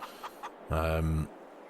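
A chicken in Farming Simulator gives a single drawn-out cluck of about half a second, fairly loud and close, preceded by a couple of faint short clucks.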